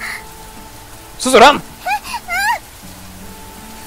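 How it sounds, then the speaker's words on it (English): Rain pouring in a visual novel game, a steady soft hiss running under the whole scene while a voice shouts a brief urgent command. "all of a sudden the raindrops begin to pour"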